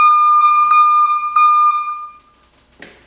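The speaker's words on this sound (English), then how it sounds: "this is the switch for the reverse beeper if I want to use it" A reverse beeper on a Kubota BX compact tractor sounds a loud, close electronic tone in three sustained pulses that trail off, followed by a brief rustle.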